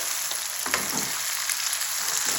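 Onions frying in a pan for a bitter gourd (karela) dish, being mixed with a spoon: a steady broadband sizzle with a few soft scraping stir strokes, close and continuous, no talking.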